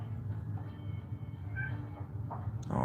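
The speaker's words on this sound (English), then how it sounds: "Oh, my cat wants in." A house cat meows faintly a few times outside, wanting to be let in. The calls are soft and spaced out over a low steady room hum.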